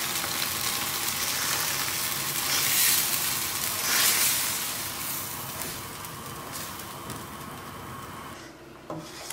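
Ground masala paste for a Goan kofta curry gravy hisses and sizzles in a hot pan, close and continuous, with rubbing scrapes from stirring, before the sizzle briefly drops away near the end.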